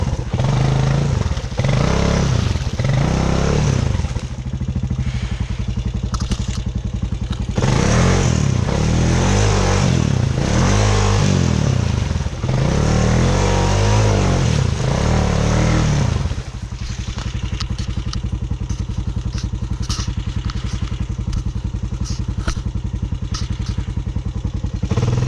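A Honda Recon four-wheeler rides through a creek, its engine droning loudly and close with revving surges, splashing clatter and thumps over the rough creek bed, easing to a steadier idle-like hum toward the end.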